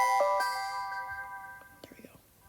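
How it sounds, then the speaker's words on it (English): A Samsung Galaxy S9 ringtone plays as a short bright melodic chime of sustained tones that fades out, followed by faint tapping and handling noise close by. "Here we go, Samsung Galaxy S9 ringtones."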